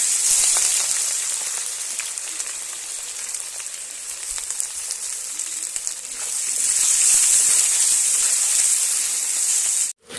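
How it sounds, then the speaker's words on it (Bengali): Continuous crackling sizzle of sliced onions frying in hot oil with dried red chillies and bay leaves, fairly loud and close, swelling near the end before an abrupt cutoff. "পেঁয়াজটা আমার লাল লাল করে ভাজা হয়ে গেছে"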